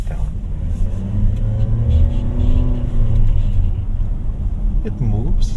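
A 2023 Toyota Zenix 2.0 Q hybrid accelerates from the cabin, its engine note rising steadily in a sustained, fairly loud rumble with voices talking over it.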